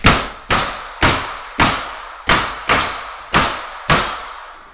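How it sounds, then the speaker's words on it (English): An air nailer drives trim nails in eight evenly spaced sharp pops, each a loud close crack with a short ringing decay, about two shots per second with no talk. "Using an air nailer, I can shoot on trim much, much faster with this than with the cordless guns"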